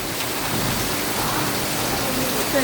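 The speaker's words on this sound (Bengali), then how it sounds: "কি পরিমাণে বৃষ্টি হইতেছে" Heavy rain pours steadily in a dense, continuous hiss with no pauses, drumming on surfaces nearby.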